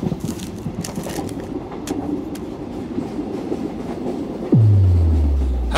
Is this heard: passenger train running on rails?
yes